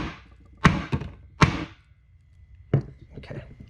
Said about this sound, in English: I'm going to bang that into place.